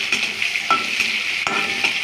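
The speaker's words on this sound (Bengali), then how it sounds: "ক্যাপসিকামটাও একটু নেড়ে ছেড়ে নেব" Capsicum stirred in hot oil with ginger paste and tomato, a bright continuous sizzle broken by two sharp spatula scrapes against the pan, close and loud with no talking.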